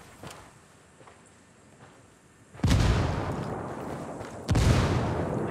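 A grenade goes off in a military shooter video game: two loud, close explosion bursts arrive a couple of seconds apart, each with a sharp onset and a rumbling decay, after a stretch of quiet distant gunfire.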